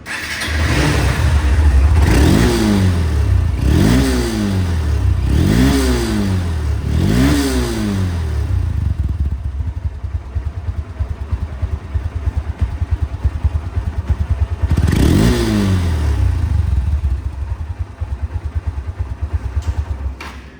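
A Honda Hornet CBS motorcycle engine idles loudly up close, with four quick rising revs in a row, a steady idle, then one more rev before settling back to a rough idle.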